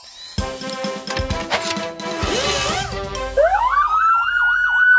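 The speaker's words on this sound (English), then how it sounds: "Now that's a loud nee-naw." A loud cartoon emergency siren wails in a rising and falling nee-naw pattern after a burst of clanging, bouncy cartoon sound effects, close and continuous at the end.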